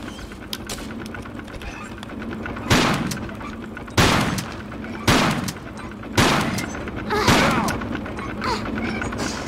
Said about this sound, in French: je lui ai fait déguster de la chevrotine, mais vilain quoi